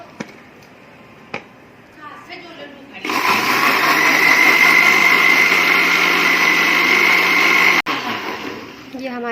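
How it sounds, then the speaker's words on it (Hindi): An electric blender grinds orange juice with sugar, starting abruptly with a loud, steady whine that holds for about five seconds before cutting off. Light kitchen knocks come before it, and brief handling noises follow. "चीनी डाल देंगे, ग्राइंड कर लेते हैं"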